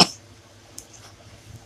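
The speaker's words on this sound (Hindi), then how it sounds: "ये खांसी खांसी खांसी मत करो बेटे" A child's single sharp cough comes right at the start, close and fairly loud, then fades into a quiet room with a faint background hum.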